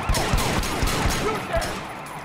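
Rapid gunfire in the Triad Wars video game, shot from a motorbike during a police chase, with sharp repeated bursts over a steady engine and traffic roar and a faint siren-like tone.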